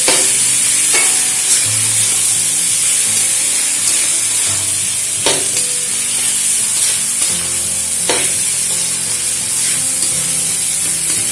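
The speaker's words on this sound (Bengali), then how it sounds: "চাল আর ডাল একসাথে খুব ভালো করে মিশিয়ে নেব।" Rice and fried lentils being stirred together in a hot pan, a steady loud sizzle with repeated scraping strokes of the spoon every couple of seconds, no voices.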